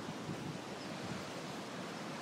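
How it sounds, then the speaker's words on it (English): Steady broadband rush of ocean surf rolling onto the California coast, continuous and fairly even in level with a windy, hissing texture and no voices. "those waves are pretty nice out there, Ange."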